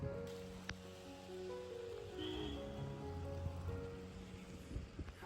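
Monsoon rain falls over a Munnar tea plantation in a soft, steady patter, with a low engine-like hum running underneath and a few faint clicks.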